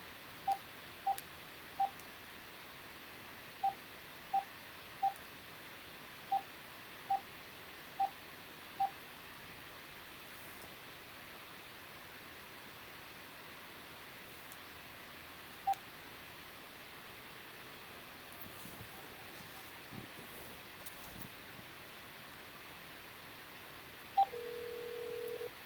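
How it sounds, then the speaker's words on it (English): A series of short telephone keypad dialing tones, evenly spaced beeps in a quiet room, followed by a longer steady tone near the end; no one speaks. "And now I am going to phone Wei Kuei."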